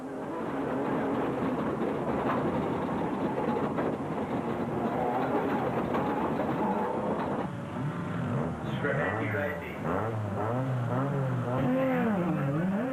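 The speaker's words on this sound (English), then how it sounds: "On board with Grobler and enjoy the ride." Onboard view of a Ford or Nissan race car in the Sugarbelt 400 endurance event, its engine droning loud and steady throughout with rising and falling revs through gear changes near the end, commentary talking over it.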